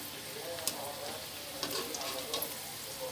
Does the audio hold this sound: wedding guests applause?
no